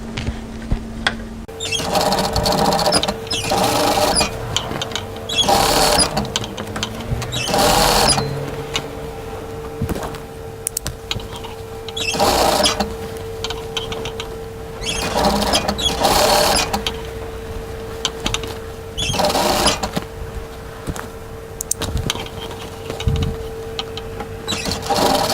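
A sewing machine stitches a camisole seam in short bursts, a close, loud mechanical whirr starting and stopping at irregular intervals, with quiet pauses between runs.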